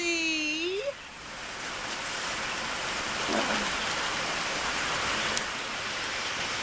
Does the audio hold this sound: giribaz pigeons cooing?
no